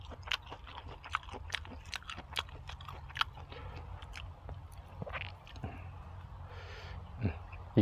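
Chewing boiled pig head up close, soft wet crunching and squishing bites in an irregular rhythm, fairly faint, with a few brief breaths between mouthfuls.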